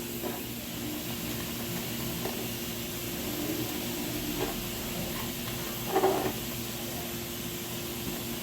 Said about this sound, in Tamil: இப்போ இஞ்சி பூண்டு சேர்த்துருக்காங்க, அரைச்சி வச்சதை.